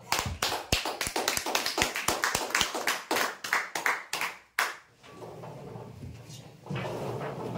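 A crowd's applause at a prize-draw event, a burst of dense clapping that swells and then trails off into the murmur of the room.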